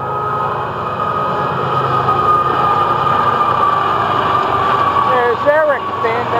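FEC101, a freight train, rolls past with a loud, steady rumble of engine and wheels. A horn-like tone rises near the end.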